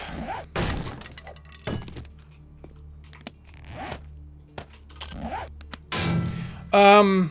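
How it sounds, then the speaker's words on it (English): Breaking into a gun safe in the game 7 Days to Die brings repeated sharp whacks and clatters, ending in a louder burst, while someone talks in between. "Because we're about to break into a gun safe."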